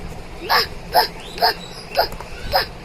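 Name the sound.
child imitating a dog barking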